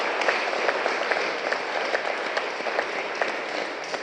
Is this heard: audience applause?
yes